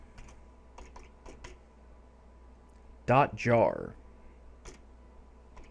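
Keys on a computer keyboard are tapped in sparse, scattered clicks, quiet and close, while a voice briefly speaks in the middle.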